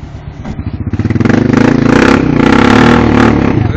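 A four-wheeler ATV engine revs hard while mudding, a loud, close, pulsing roar that builds and holds as the wheels spin, with mechanical clatter.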